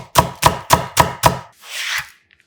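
A knife chops green onion on a cutting board in five quick, evenly spaced, crisp knocks, close and loud, followed by a brief soft sliding scrape, with no voices.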